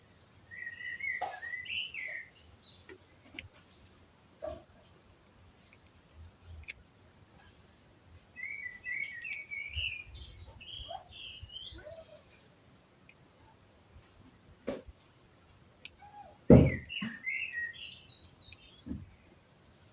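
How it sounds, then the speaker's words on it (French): Many small birds chirp and sing intermittently in a garden surrounded by trees, faint to moderate and somewhat distant, with someone talking over them throughout. "Et il y a beaucoup d'oiseaux qui chantent."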